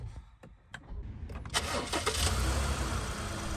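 A car engine cranks and catches with a multimeter clipped to the battery for a load test. Faint clicks come first, then the engine fires at about 1.5 seconds and keeps running loudly to the end.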